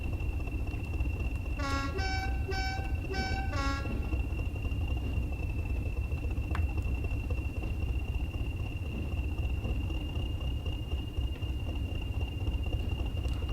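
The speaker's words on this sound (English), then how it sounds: "So we've got a nice steel train we're taking to Darlington today." A steel freight train bound for Darlington on the Tees Valley Line in Train Sim World 3 gives a few short horn toots over a steady engine rumble and a thin, constant whine.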